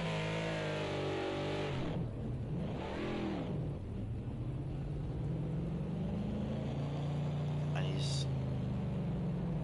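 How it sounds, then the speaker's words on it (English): A GT3 race car spins through donuts in a sim racing game at Spa, its engine revving and dipping in repeated swooping surges, with a sharp high squeal near the end and a commentator talking over it. "As you watch Christian doing a bunch of donuts here."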